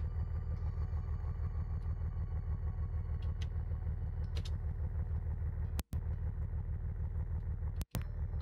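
Car engine driving in the video game Missing Hiker, a steady low rumbling drone that holds throughout, broken by two very short cuts to silence.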